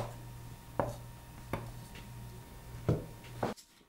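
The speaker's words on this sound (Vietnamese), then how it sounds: "Gừng thì mình cũng cắt ra luôn nè." Fresh ginger is cut with a knife while preparing a marinade for grilled meat. Four sharp, separate chops fall at uneven intervals, close but quiet, over a steady low hum with no talk.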